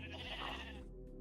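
A Minecraft sheep gives one short, nasal bleat at close range, heard alone against a quiet background.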